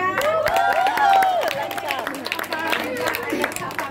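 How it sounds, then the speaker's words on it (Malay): Applause at a Sunday school Bible verse memorization contest, scattered hand claps crackling under a voice and other chatter, fairly close and moderately loud throughout. "bagi tepukan"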